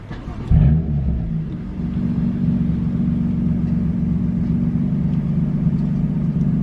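A BMW F80 M3 idling after a Bootmod3 Stage 2 flash with the cold-start and startup roar turned off. A short blip opens the clip, then a steady, even low rumble holds close and alone to the end.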